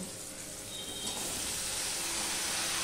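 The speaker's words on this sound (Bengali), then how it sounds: "আলুগুলো নেড়ে চেড়ে একটু ভেজে নেব" Steady low sizzling of potatoes and green plantain frying in a pan, a soft continuous hiss with faint crackle, no voices.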